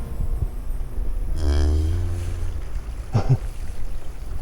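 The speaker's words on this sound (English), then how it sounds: "There's more cows." A cow moos once, loud and close, in a rural town in El Cocuy, Boyacá, Colombia. A drawn-out low call is followed by a brief second grunt, over steady outdoor background noise.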